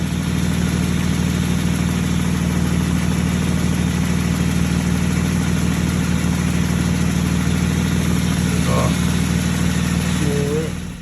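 A Jeep Sahara engine runs steadily on a test drive, a constant loud drone with road and cabin rumble throughout, and a voice speaks briefly over it.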